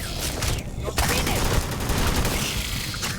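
Rapid gunfire rattles in the space game Starfield, a dense, continuous burst of shots lasting a few seconds, loud and close, with a brief dip before the firing resumes.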